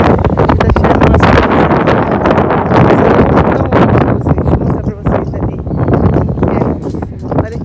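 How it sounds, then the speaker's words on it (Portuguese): Strong wind buffets the microphone outside a church in Salvador, a loud continuous roar with gusty surges that masks the background, while people talk underneath. "viemos aqui agora com essa outra igreja que tá ventando muito"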